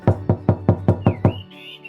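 Knocking on a door in an animated children's story, seven evenly spaced loud raps in quick succession, then a brief bright tone as they stop.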